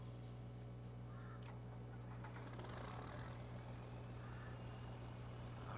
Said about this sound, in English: But I think we'll hop on the old tractor